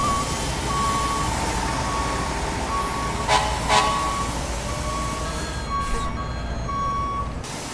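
In the EmergeNYC video game, fire engines drive back to their station on a Manhattan map, with a steady vehicle rumble and repeating reversing beeps that continue throughout at an even level.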